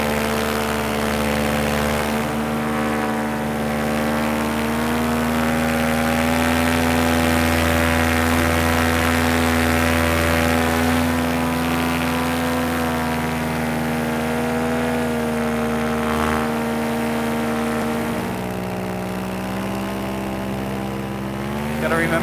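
A small propeller airplane drones steadily in flight over a meteor crater, a loud close engine hum with sustained harmonic tone that shifts pitch slightly near the end.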